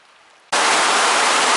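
A brief quiet moment, then a loud, dense wash of heavy rain suddenly takes over and roars on steadily.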